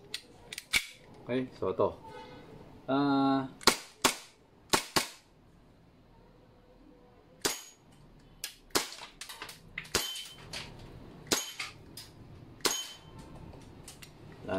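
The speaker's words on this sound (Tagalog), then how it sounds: "Kasi binabaril ko yung mga 2-inch na plates." A WE Hicapa 5.1 T-Rex airsoft gas blowback pistol fires at 2-inch plates about 4.5 meters away, sharp snapping shots spaced irregularly through the clip, with a brief voice and some quieter handling noise between them.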